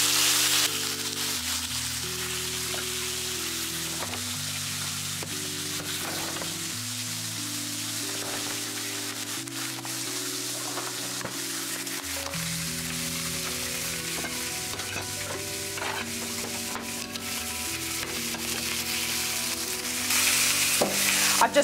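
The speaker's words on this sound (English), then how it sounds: "We're just going to let it sear on that side." Steak sears in a hot pan with a steady, dense sizzle and crackle that holds for over twenty seconds, close and continuous, while soft music plays underneath.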